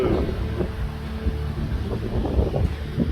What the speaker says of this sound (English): It's just blowing all around. It's real windy here.